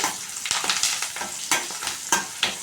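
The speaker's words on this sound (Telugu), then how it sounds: "బాగా ఎర్రగా ఎగిగేంత వరకు వేగనిద్దాం" Onion and curry leaves fry in oil for vegetable sambar tempering, a dense close sizzle punctuated by repeated stirring scrapes every half second or so, with no voices.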